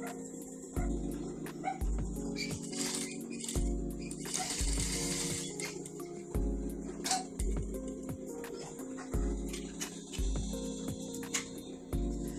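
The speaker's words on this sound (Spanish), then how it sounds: "Vamos a ver entonces cómo cose la máquina habiendo corregido esto." Domestic sewing machine stitching after its thread tension and disc pressure were corrected, a rhythmic mechanical clatter in repeated bursts about every second, close and moderately loud, with no talking.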